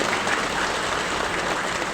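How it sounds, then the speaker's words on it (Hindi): Sustained crowd applause at a BJP mega rally in Arunachal Pradesh, welcoming seated legislators; dense, steady clapping fills the whole stretch at even loudness with no voices on top. "जोरदार ताली बजा के इनका स्वागत कीजिए"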